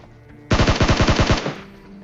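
Automatic gunfire in a battle royale video game, a loud close burst of about ten rapid shots in even rhythm that ends abruptly after a second, with a quiet tail and no talking.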